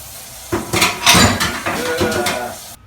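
A can of beans is opened, drained and rinsed in a kitchen, giving a short run of close metallic clanks and clattering knocks with uneven pauses between them.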